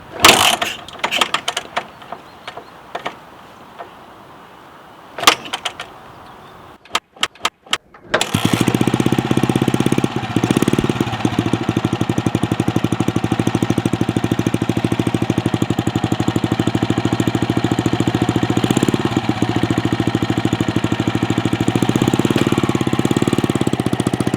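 A Motobécane Z56C moped is kick-started: a few scattered clicks and knocks first, then the small engine catches and runs loud and steady, a continuous buzzing drone through to the end.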